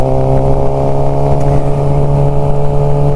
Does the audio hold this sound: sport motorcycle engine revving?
yes